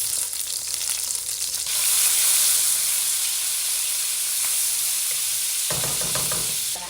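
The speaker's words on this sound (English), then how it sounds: "olive oil, add your garlic, some salt, and your chili flakes." Garlic, salt and chili flakes sizzle loudly in hot olive oil in a pan, a dense continuous hiss close by that swells briefly, with stirring clatter toward the end and no voices.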